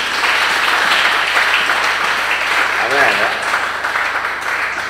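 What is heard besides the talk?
applause for the glory of God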